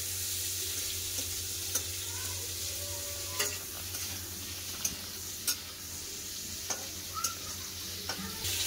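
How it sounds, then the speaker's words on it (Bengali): Slices of pointed gourd (potol) fry in oil with a steady, close sizzle and occasional light ticks of a spatula against the pan, running unbroken and without any voices. "পটল ভাজা হয়ে গেছে, পটল তুলে নেবো।"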